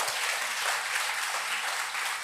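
A church congregation claps together in a dense, continuous burst of applause during a sermon, steady and fairly loud throughout, with no voices standing out.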